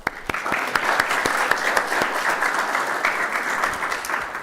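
Steady audience applause fills a chemistry and biochemistry awards banquet hall, a dense wash of many hands clapping evenly throughout at moderate loudness with no break.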